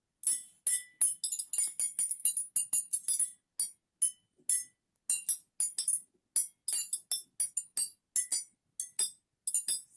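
Glass bottles holding different amounts of water tinted with Betadine are struck one after another, giving a long series of bright, ringing clinks in quick irregular bursts with short pauses, close and clear with no talking.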